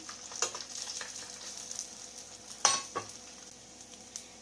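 Oil poured onto a hot street-food griddle sets a murtaba frying, giving a quiet steady sizzle with a few sharp clinks and scrapes, no voices.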